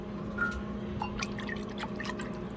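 Liquid drippings from an air fryer are poured out to make gravy, giving a soft, steady trickle with faint drips and light clinks, fairly close, with no talking.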